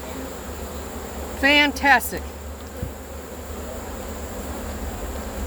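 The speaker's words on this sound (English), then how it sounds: "That's a lot of bees." Honeybees at an open hive, a steady, even buzzing hum with many bees close by, broken briefly by a man's short spoken exclamation.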